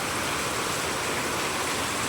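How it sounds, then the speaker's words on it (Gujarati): Rainwater rushes through a flooded courtyard under heavy rain, an unbroken broadband roar, near and steady, with nobody speaking. "વરસાદ જો કેટલો હોય તો"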